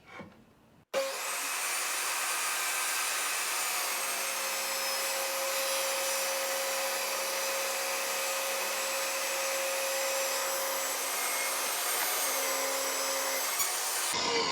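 A table saw spins up sharply and rips a longer board fed across an infeed extension, a loud sustained whining cut lasting about thirteen seconds before the blade cuts out and winds down.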